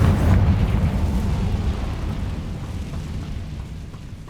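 A Confringo fire spell explodes in Hogwarts Legacy, a loud rumbling blast that decays into a long, fading roar over several seconds, with no voices.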